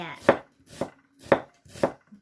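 A knife chops ingredients finely for duck larb on a cutting board, making four evenly spaced, sharp knocks close up with no talking.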